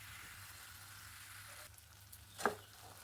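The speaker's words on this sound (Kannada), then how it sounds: "ಹಸಿ ವಾಸನೆ ಕಡಲೆ ಹಿಟ್ಟಿಂದು ಹೋಗೋವರೆಗೂ ಫ್ರೈ ಮಾಡ್ಕೋಬೇಕು" Gram flour frying in ghee with cashews for besan ladu gives a faint, steady sizzle, broken by a brief clink near the end.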